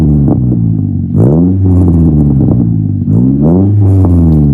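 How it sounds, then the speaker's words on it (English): A car's exhaust revs hard in a loud, close burst of repeated rising and falling engine sweeps, with an imperfect exhaust fitment. "Here we go. Here's exhaust."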